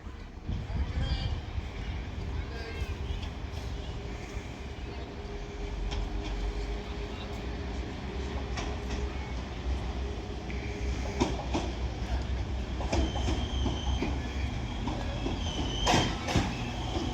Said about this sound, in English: Now arriving in is going to be the 1545 West Midlands Railway service to Birmingham New Street from Shrewsbury. They're Class 196.